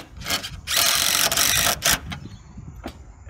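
A power drill drives large screws through a tile bracket into a wooden roof truss on a tile roof, giving a few short bursts of whirring, close and moderately loud, separated by brief pauses.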